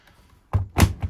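A Samsung ecobubble washing machine door is pushed closed after cleaning its coin basket and pump filter, giving a couple of close, heavy thunks and a latching knock in quick succession.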